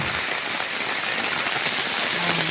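Heavy rain falls without a break, a dense, even hiss of drops on surfaces, loud and close with no other sounds.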